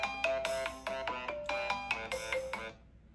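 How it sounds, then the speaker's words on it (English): A phone ringtone plays a melodic electronic pattern of short repeated tones, fairly close and clear, running for about three seconds before cutting off, with no voices. "I got a phone call"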